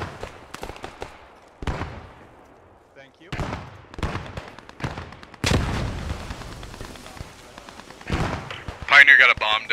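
Grenade and gunfire blasts in a WWII first-person shooter set on Utah Beach during Operation Overlord, with several heavy broadband thumps spaced across the scene, one louder burst near the end, and players talking over the combat.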